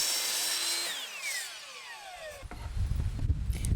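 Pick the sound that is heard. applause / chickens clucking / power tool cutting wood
power tool cutting wood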